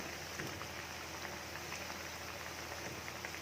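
Cassava vada frying in hot oil, a steady dense sizzle and crackle of bubbling oil, close and continuous with no talk.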